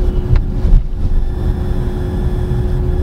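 Steady low-frequency road and motor hum from a 2023 Weltmeister W5 electric car being driven with regenerative braking, with a faint electric whine and light wind noise, continuous and close throughout.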